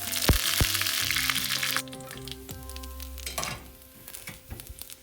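Mustard seeds, fenugreek, dried red chillies and curry leaves hit hot oil for a Kerala mango coconut curry: a loud, bright sizzle with a few sharp pops that drops to a softer crackle partway through, then some light stirring.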